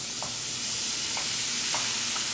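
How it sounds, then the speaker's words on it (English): Butter heating in a pan before onions and garlic go in for sautéing, giving a steady soft sizzle with a few light stirring scrapes, close and continuous with no talking. "we're going to heat up the butter"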